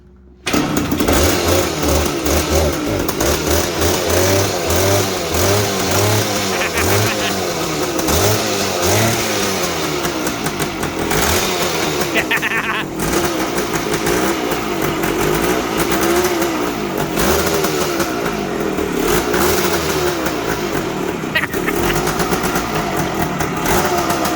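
A 1973 Yamaha CT3 motorcycle engine starting after sitting a while, catching quickly then running and revving loudly up close with uneven, pulsing throttle blips throughout, no talk.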